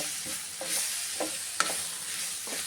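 Dried beef meat sizzling as it is stirred in a hot pan, a steady bright frying hiss with soft scraping stir strokes every half second or so, close and fairly quiet.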